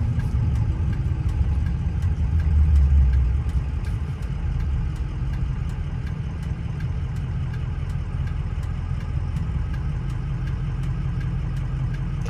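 A 2004 Ford F-350 Lariat 4WD with a 6.0L Powerstroke diesel engine, heard while driving as a steady low rumble with faint ticking, swelling briefly early on and then holding even, no voices.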